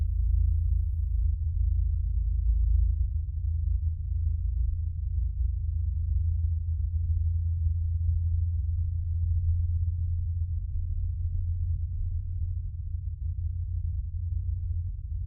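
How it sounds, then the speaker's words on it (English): A low, steady droning hum of the kind reported in Auckland, heard alone and unchanging throughout, deep and continuous with no other sounds. "That indeed, good sir, is a hum."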